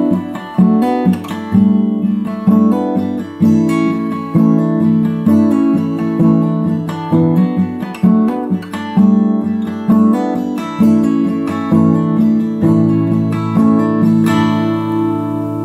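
Acoustic guitar strums the down-up pattern for a song, with hammer-on and pull-off variations woven into a steady rhythmic chord cycle, played close and alone.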